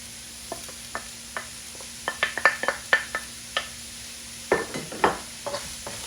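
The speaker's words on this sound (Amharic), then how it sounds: "አሁን ሽንኩርቱን እጨምራለሁ።" Onions stirred in a pan with a utensil for an Ethiopian dish, giving a steady soft sizzle under a series of sharp scraping and clinking strokes against the pan, close and fairly quiet.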